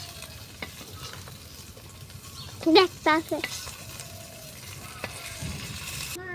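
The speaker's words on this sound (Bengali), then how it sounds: "এই যে আমার মাছ ভাজা হয়ে গেছে" Fish fries in a pan with a soft, continuous sizzle, broken by a few sharp clinks and scrapes of a utensil; a voice speaks briefly.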